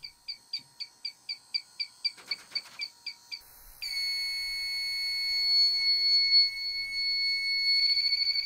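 Inficon Tek-Mate refrigerant leak detector sounding off during an R-410A leak test: a run of about a dozen rapid high beeps, then a loud continuous steady alarm tone held to the end, with no talk.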